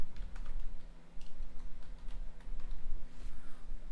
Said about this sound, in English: if I type in Canuck Clay here